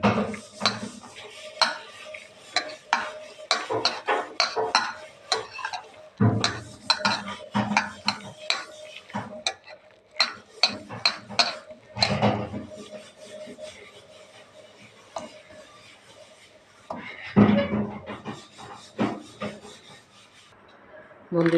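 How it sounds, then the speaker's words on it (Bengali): Masala spices being mixed by hand with whisked sour yogurt in a bowl for a whole chicken roast, a continuous close, wet squishing and rubbing with frequent knocks against the bowl, steady for about twenty seconds. "এখন মশলাটা আমি মেখে নেব সুন্দর করে"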